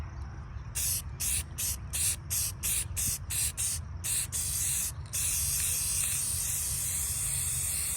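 A spray can puts gray paint on a lamp in a run of short hissing bursts with brief gaps between them, then one long continuous spray.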